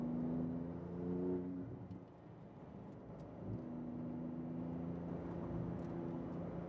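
A Porsche 911 GT2 RS engine under throttle on track, a steady droning engine note heard from inside or nearby, briefly easing off and then building again, continuous and moderately loud.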